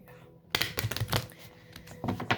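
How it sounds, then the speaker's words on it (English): A deck of tarot cards is shuffled close up in a quick burst of riffling and flapping, with a sharp clatter of card edges toward the end. "We're shuffling."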